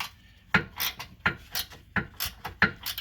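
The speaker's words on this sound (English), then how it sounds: "you switch to a ratchet wrench." A ratchet wrench loosens a nut on the rear upper control arm of a 2011 Chevy Malibu, giving four evenly spaced bursts of metallic clicking and rasping, close and fairly loud with no voices.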